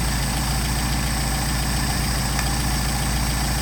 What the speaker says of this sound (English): You can hear the RPM pick up.